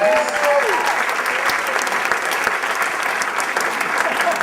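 Sustained applause from an awards-dinner audience honoring the evening's winners at the 2012 Amherst Area Chamber of Commerce A+ Awards, dense steady clapping with a faint voice briefly audible early on.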